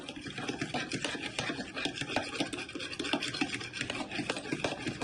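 Eggs with vanilla extract being whisked with a fork, a fast continuous scraping and tapping against the bowl, close and fairly loud throughout, with no voices.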